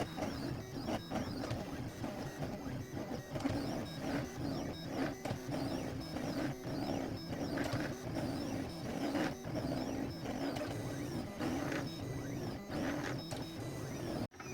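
A Silhouette cutting machine cuts paper with a steady mechanical hum and repeated sweeping whirs and clicks as the blade carriage moves back and forth, fairly quiet and close.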